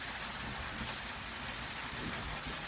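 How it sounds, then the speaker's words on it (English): Steady, dense rain drumming on a tin roof, a continuous broadband patter with no pauses, fairly loud and close, with no talking. "Hope you guys can hear me over this rain on this tin roof."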